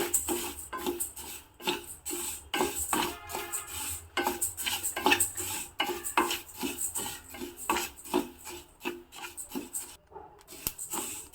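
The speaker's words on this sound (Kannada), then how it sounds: "ಮೆಂತ್ಯ ಕಾಳು ಇದನ್ನು ಚೆನ್ನಾಗಿ ಹುರಿತಾ ಇದ್ದೀನಿ" Fenugreek seeds are dry-roasted in a pan while a utensil stirs them, making rapid, rhythmic scraping and rattling strokes close by, with a brief pause near the end and no talking.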